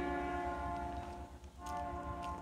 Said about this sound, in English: I can hear the whistle.